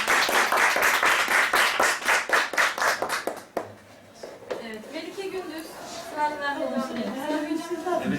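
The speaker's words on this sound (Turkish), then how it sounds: "Alkışlıyoruz arkadaşlar." An audience at a Quran course report-card ceremony claps in a rhythmic, unison beat for about three seconds, then the clapping breaks off and talk and chatter carry on over scattered hand sounds.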